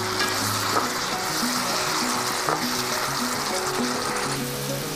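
Moringa drumsticks coated in mustard paste fry in a pan, giving a steady, even sizzle that carries on without a break for several seconds with nobody talking.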